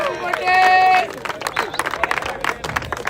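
A crowd at a U15 national tournament final gives a round of applause for the tournament director, scattered clapping and cheering mixed with crowd voices.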